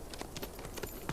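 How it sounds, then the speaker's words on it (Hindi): A horse's hooves clip-clop at a steady walking rhythm while being ridden, a run of crisp, fairly close hoofbeats over a brief moment. "मैंने घोड़े पर सवार होने का कहा"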